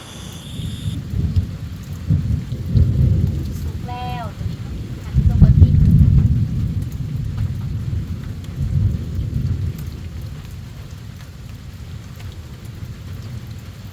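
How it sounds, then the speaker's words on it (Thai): Steady rain falls throughout, a broad hiss with low rumbling swells, while people talk over it nearby. "บรรยากาศฝนตกลิน"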